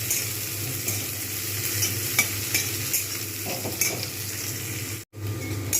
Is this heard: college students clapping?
no